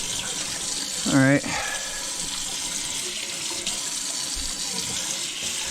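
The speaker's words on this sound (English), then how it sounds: "you always want to wash the bugs off and stuff, so get it all washed off" Tap water runs steadily into a sink while freshly harvested mullein leaves are rinsed, a constant close splashing hiss throughout, with a brief spoken remark early on.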